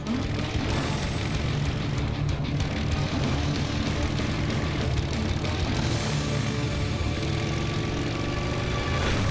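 A motorbike engine running steadily as the bike is ridden off in a Hindi-dubbed Power Rangers Samurai episode, a continuous loud mid-pitched drone with no pauses and no speech over it.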